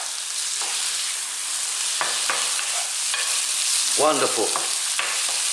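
Chinese sausage and mushroom stir-frying in a pan, a steady close sizzle running throughout with intermittent scraping stirs, and a brief spoken word partway through.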